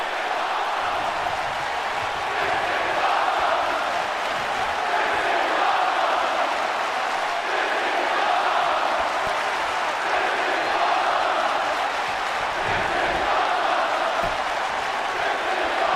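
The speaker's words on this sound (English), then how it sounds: "The crowd showing their appreciation for this women's championship match." A video-game arena crowd in a WWE 2K23 women's championship match roars and applauds in a sustained, loud wash of cheering that swells and dips without pause.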